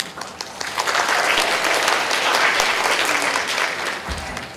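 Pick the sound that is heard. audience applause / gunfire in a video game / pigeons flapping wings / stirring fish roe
audience applause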